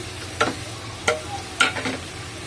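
Onions and chopped Kashmiri chili stir-fried in a pan for momos: three or four distinct spatula scrapes and tosses over a low, steady sizzle, with no talking.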